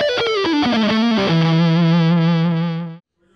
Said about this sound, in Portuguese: E agora usando bastante nota para vocês sentirem o ataque do som dessa guitarra.